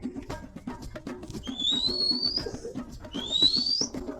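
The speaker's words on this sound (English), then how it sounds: "They echo each other with whistles" People in an African forest whistle back and forth, two rising whistled calls answering each other over rustling footsteps and movement of a hunting party on the move.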